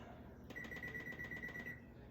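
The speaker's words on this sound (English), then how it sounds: "we're going to put the timer on because clearly I need the timer on today" A kitchen timer is set beside an oven baking fish at 400 degrees, giving a quick, steady run of faint, high electronic beeps that lasts just over a second against quiet room tone.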